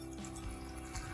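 Half a cup of full-fat milk poured into a pan of flour on the stove, a steady close liquid pour with a low continuous gurgle and no pause.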